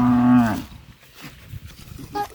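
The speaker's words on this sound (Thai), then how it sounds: "แม่วัวร้องหาลูกแล้ว ตามหาลูกเขาเดี๋ยวลูกเขาก็มา" Mother cow lowing for her calf in a rural pasture, one loud close moo with a strong harmonic tone that fades into quieter rustling and faint background sounds.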